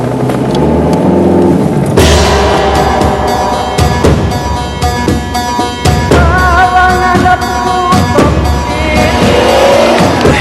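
A Kia Rio is driven hard. The engine revs loudly, rising and falling through the gears, with sharp transient bursts and tire noise. The sound is close and continuous, with no talk.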